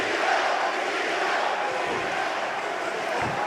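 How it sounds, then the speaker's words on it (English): A UFC arena crowd chants a fighter's name during a bout, a loud, massed roar of voices that holds steady and fills the space without a clear rhythm. "Crowd chanting Diaz."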